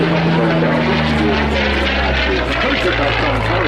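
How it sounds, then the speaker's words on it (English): P-40 Kittyhawk from the Hangar 11 collection flying at the Southport Air Show, a loud continuous propeller engine drone with shifting tone as it passes near, heard alone. "we welcome from the Hangar 11 collection at Southport. P-40 Kittyhawk."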